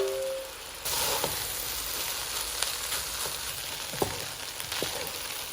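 Cooled rice stir-fried in a hot pan with fried potato, pepper and spices, Sri Lankan style fried rice, giving a steady close sizzle with occasional scraping and clinking of a spoon against the pan.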